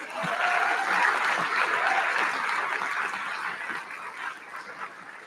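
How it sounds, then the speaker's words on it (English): A graduation ceremony audience claps steadily for a university honoree, a broad wash of many hands with a few scattered chuckles, gradually tapering off toward the end. "Can we give Dr. Pace another round of applause?"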